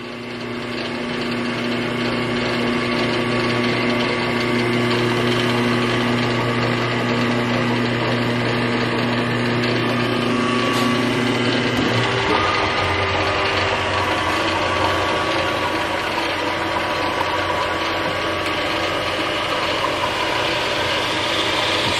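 A WEN 4225 15-inch drill press hums steadily at close range, then its pitch shifts partway through as the belt is switched between speeds, with a continuous mechanical whir and no talking.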